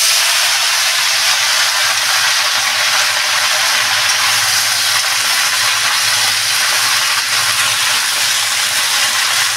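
Washed spinach hits a hot pan in a home kitchen and sizzles loudly and steadily, a dense, continuous frying hiss with no talking.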